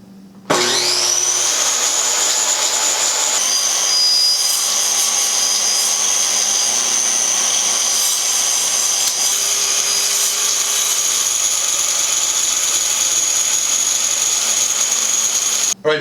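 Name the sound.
power saw cutting through backdrop board on plastic sawhorses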